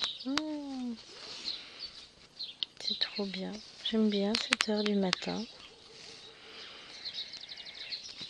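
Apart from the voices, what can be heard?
birds singing in the countryside in the morning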